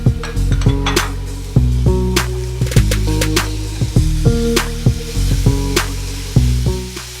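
Ginger garlic paste hitting hot ghee for a mushroom pulav, loud crackling sizzle broken by repeated clinks and scrapes of a spoon stirring against the pan.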